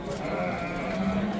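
A flock of Sariosiyo sheep bleats in a steady, overlapping chorus, with several animals calling at once at a moderate distance.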